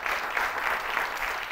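A studio audience claps in steady, dense applause that fills the whole short stretch at even volume, with no voices over it.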